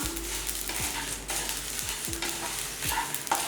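Kashmiri and other dried red chillies are dry-roasted and stirred in a pan, with a steady dry rustling and periodic scraping strokes of the spatula against the metal. No one talks.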